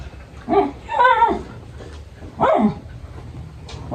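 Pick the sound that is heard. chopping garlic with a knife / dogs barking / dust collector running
dogs barking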